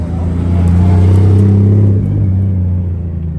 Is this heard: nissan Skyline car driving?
yes